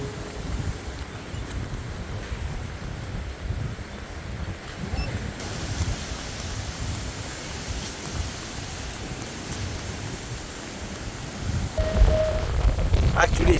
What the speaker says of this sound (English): Actually it's a little bit windy today